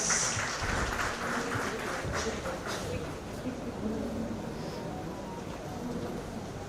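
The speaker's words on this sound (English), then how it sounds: "Please, huge round of applause." Sustained audience applause fills a hall at a PGDM inauguration ceremony as the chief guest, a COO, is welcomed onto the dais; steady dense clapping with crowd noise throughout.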